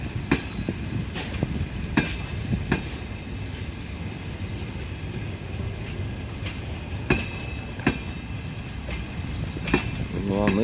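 Passenger train no. 212 pulls out of the station in Volgograd, its wagons rolling with steady rumble and periodic sharp rail clacks spaced a second or two apart, with faint talk in the background.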